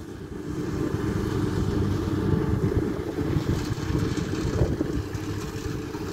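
A 2015 Kubota DC60 combine harvester cutting rice in a soft, muddy field, giving a steady, loud low engine drone with rumbling mechanical churn throughout and no talk.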